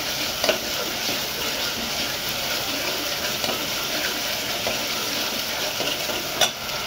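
Masala paste is stirred in a hot pan while cooking misal, with a steady sizzle and frying hiss throughout and a few faint scraping clicks from the spoon.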